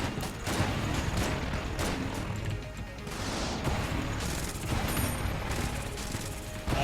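Composite gun firing in the dungeon-crawler game Enter the Gungeon, a dense, continuous clatter of shots and impacts under game music and effects, steady and moderately loud throughout.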